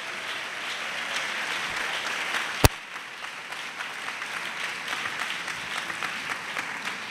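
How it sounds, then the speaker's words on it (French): A church congregation applauds during a sermon, sustained dense clapping throughout at even loudness, with one sharp louder clap standing out partway through. "Clap for Jesus."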